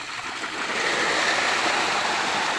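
Water gushes hard and steadily from the opened valve of a farm RCC tank, a loud continuous rushing hiss close by with no pauses or talk.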